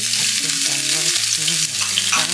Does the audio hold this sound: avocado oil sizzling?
yes